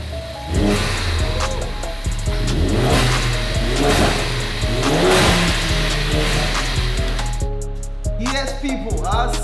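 A crash-damaged Ford Focus ST, a Steeda Performance build, revs hard several times in a row, its engine rising and falling loudly and close by, with a few sharp higher-pitched bursts near the end.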